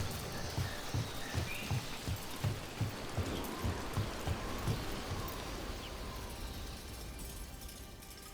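Rain falls steadily in the video game Dragon Age: Veilguard, a soft, even hiss with a faint low rhythmic thumping underneath, no voices over it.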